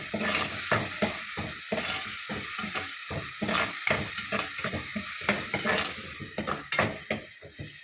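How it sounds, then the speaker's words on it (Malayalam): Crushed shallots frying in a pan while being stirred, a loud close sizzle broken by rapid, regular scraping strokes of a spoon against the pan, with no talking. "എന്നിട്ട് ഈ ചതച്ച് വെച്ച ചെറിയുള്ളി ഇട്ട് കൊടുക്കുക."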